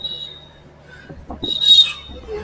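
A Kolkata Metro train out of Dum Dum station: low rumbling hum with a rising whine and a brief high squeal of wheels on rail near the end, fairly close and moderately loud, with no talk.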